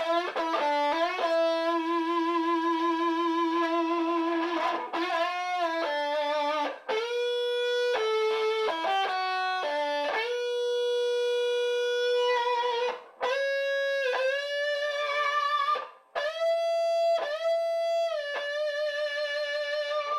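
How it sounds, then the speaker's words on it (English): An electric guitar played through a wah pedal set partly back and a touch of distortion sounds a melodic run of sustained, vocal-like notes that bend and slide, loud and alone. "kick the wah on here, back it off, and give it a little distortion"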